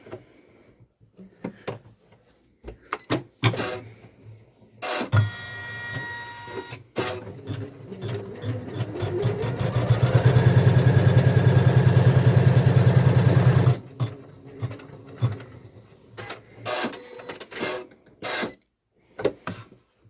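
A sewing machine stitches a placement line on quilt fabric: a loud steady mechanical run of about four seconds mid-clip, framed by short bursts, clicks and fabric handling before and after.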